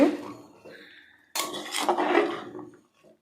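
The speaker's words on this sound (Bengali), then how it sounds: "একবার খুন্তি নিয়ে ভালো করে একবার নেড়ে নেব" A metal spatula scrapes and stirs cooked cabbage inside an open pressure cooker, with a short clatter at first and then a louder, dense burst of scraping and clinking up close.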